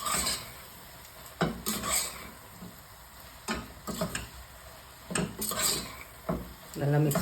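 Mint and coriander being mixed into mushroom biryani, intermittent scraping and clinking of a spoon against the pot in short bursts with quieter gaps, a soft sizzle beneath.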